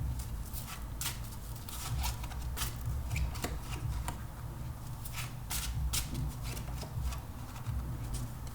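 Tarot cards shuffled and drawn for a reading, a steady run of soft crisp riffling and flicks with sharp card snaps over low room hum, no voice.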